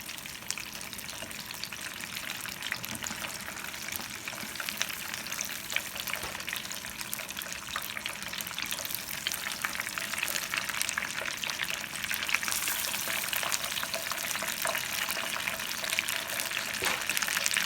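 Coconut shrimp sizzle and crackle steadily in hot oil in a frying pan, a dense, continuous frying hiss that grows slightly louder over time.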